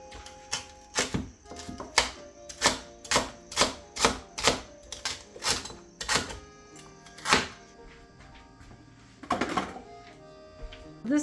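A knife chopping rhubarb on a cutting board makes a rapid series of crisp, evenly spaced chops up close, then pauses and picks up again with a few quicker cuts.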